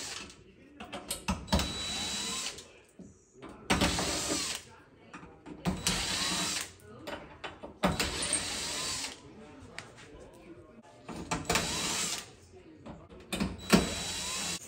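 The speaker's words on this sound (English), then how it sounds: "It's coming off smoothly, so I can use my drill" A cordless drill unscrews the screws on a Fisher Paykel gas oven's burner assembly, whirring in several short bursts with pauses between them, close up and fairly loud.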